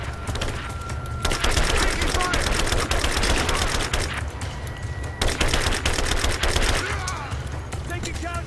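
Rapid automatic gunfire from a weapon in Rise of the Tomb Raider, dense continuous bursts over several seconds with short pauses between, loud and close.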